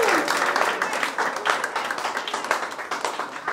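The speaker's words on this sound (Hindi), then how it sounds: "जोरदार तालियां इस टीम की" An audience at a music video launch event claps enthusiastically for the team, the applause full and close at first and then continuing in a rhythmic, slightly thinning patter with background chatter.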